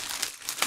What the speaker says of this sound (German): Einmal ausöffnen, Tüte weg damit.